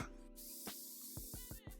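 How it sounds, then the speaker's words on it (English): A Morphe mini continuous setting mist sprays in a long steady hiss, followed by a few short puffs near the end, all loud and close. "now I can go in with some spray. I have the mini continuous setting mist from Morphe."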